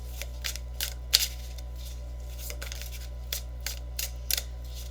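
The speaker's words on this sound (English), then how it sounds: "my hands are still adjusting and shuffling" A slightly oversized tarot deck being shuffled by hand, with a series of quick, crisp card riffles and snaps spaced irregularly over a low steady hum, no voices.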